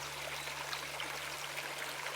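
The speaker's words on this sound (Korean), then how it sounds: "물가에 흐르는 물소리." Water flows at a waterside in a steady, soft rush and trickle under a low hum, with no voices.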